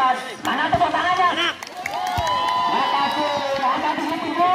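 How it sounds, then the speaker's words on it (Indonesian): Spectators cheer and shout at a friendly football match between VCS Sarwogadung and Tambak Mas Jr in Ngabean, a lively crowd roar that dips briefly and then stays steady. Some clapping may be mixed in beneath the voices. "Mana tepuk tangannya?"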